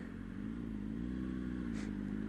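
A Honda CBR 600RR motorcycle engine while riding, a steady, close droning hum with a stable pitch and some wind buffeting, and no talking.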